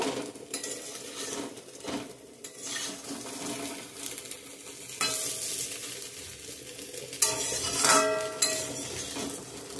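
Cauliflower pakoras frying in a pan of hot oil, a steady close sizzle and crackle broken by metallic scrapes and clinks of a utensil against the pan.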